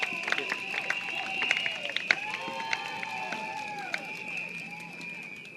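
A crowd at an outdoor election rally in Tampines, Singapore, claps and cheers, a dense wash of applause with whoops and shouts mixed with amplified voices.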